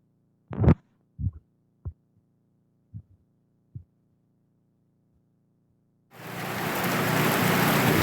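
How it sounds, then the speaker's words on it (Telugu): A few scattered dull knocks sound in near silence, then heavy rain suddenly sets in as a loud, steady roar during a downpour in Rajanna Sircilla district, Telangana. "వర్షాలు పడుతున్నాయి."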